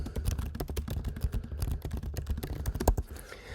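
Fast typing on a computer keyboard: a dense run of close, crisp key clicks in quick irregular bursts, tapering off near the end, with no voices.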